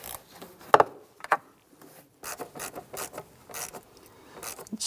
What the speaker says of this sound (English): Tighten down the hose clamp on the throttle body side.